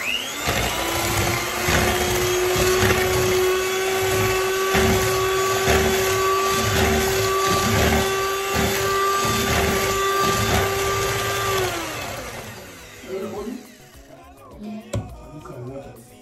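A hand-held electric mixer whirs steadily through cake batter for a cake made without an oven, a loud continuous motor drone that runs about twelve seconds before switching off, leaving quieter kitchen clatter.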